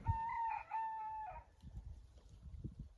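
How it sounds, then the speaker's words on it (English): Rooster at Big Bend National Park giving one drawn-out crow, fairly clear though not close, followed by quiet outdoor rumble. "Yes, that was a real rooster."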